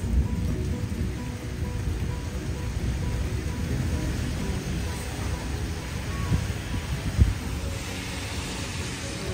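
Heavy rain pours down steadily in a broad, constant patter and wash, with a low rumble underneath and one brief louder thud near the end; no clear voices emerge over the downpour.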